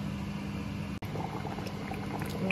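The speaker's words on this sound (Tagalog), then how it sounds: "Tayin na lang natin kumulo ang tubig hanggang lumambot ang karne ng kaunti" Water boiling steadily in a pot of munggo beans with meat, a close, continuous bubbling simmer with soft pops and a brief dropout partway through.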